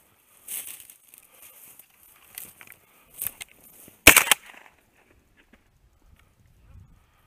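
Shotgun blasts from a cottontail rabbit hunt: a few sharp, loud shots in quick succession, then a near silence with faint outdoor rustling.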